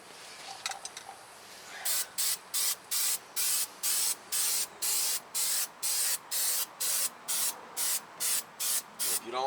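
Fluid Film rust inhibitor sprayed from an aerosol can onto the rusty brake backing plate of a 2014 Ford F-150, a close, loud series of about fifteen short hissing bursts in an even rhythm after a quieter start.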